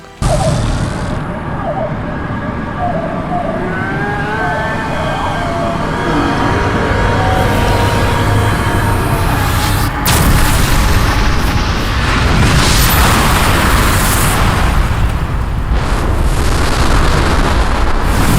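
Ending cutscene from the video game Black Mesa as the Nihilanth is destroyed: loud, continuous rumbling booms and swelling synthetic tones, with a sudden blast about midway that intensifies into sustained roaring explosions.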